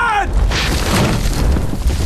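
An explosion in a war film scene from The Hurt Locker, rendered in extreme slow motion: a deep, sustained low boom rolls on for about two seconds, cut in just after a short vocal tone.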